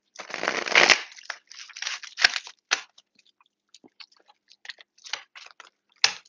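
Tarot cards are shuffled and handled in a quiet room, giving a dense riffling burst at first, then a scattered run of soft flicks, slaps and taps as cards are drawn and laid down.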